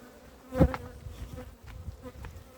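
Honey bees flying around an apiary hive in spring, a dense close buzz of insects with one loud bee passing right by, brief and unbroken by talk.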